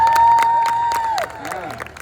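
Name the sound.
audience applause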